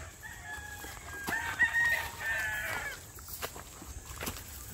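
Chickens at a hillside poultry farm crowing and clucking, with a rooster's call rising over scattered clucks and background farm noise, moderately close and without speech.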